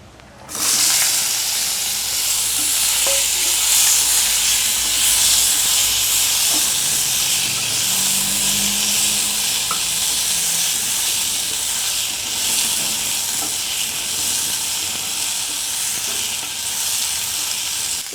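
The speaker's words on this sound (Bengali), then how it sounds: "জিরা হয়ে গেছে এখন দিয়ে দেব বরবটি" Yardlong beans hit a hot pan of cumin and break into a loud, steady sizzle and hiss that fills the whole stretch without pause.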